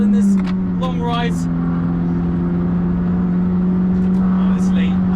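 A McLaren 620R engine drones steadily under sustained throttle on a race track, heard from inside the car as a constant close hum, with brief speech over the start.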